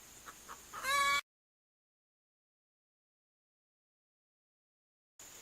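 A hen gives a short burst of clucks at the very start, then the sound cuts to silence before faint ambient noise returns at the end.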